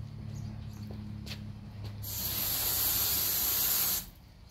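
A water spray hisses steadily for about two seconds while a car is rinsed, loud and close, then cuts off abruptly, leaving a quieter background.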